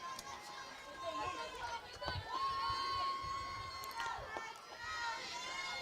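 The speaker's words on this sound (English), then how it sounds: "Wild Rose still cheering on Lily." A crowd cheers at a high school regional final softball game. Young voices chant and shout in a rhythm at a moderate distance, with a commentator talking over them.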